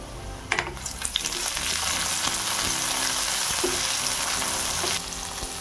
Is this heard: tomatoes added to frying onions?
yes